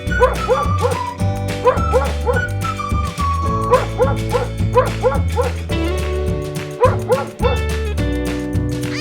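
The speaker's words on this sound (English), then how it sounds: "Dog." A dog barks and yips in repeated short calls over loud, busy background music that plays throughout.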